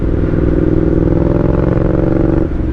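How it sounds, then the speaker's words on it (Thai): A 150cc motorcycle with a cone exhaust pipe chugs steadily at low revs close by, a deep, even throbbing that drops off slightly near the end. "เดี๋ยวให้ฟังเสียงรอบต่ำไปก่อนแล้วกัน"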